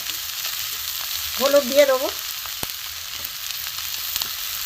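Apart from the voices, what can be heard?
frying vegetables, rice and dal for khichuri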